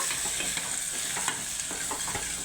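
Tomatoes roast in a hot pan with a dense, crackling sizzle and the scrape of stirring, close and steady throughout with no voice.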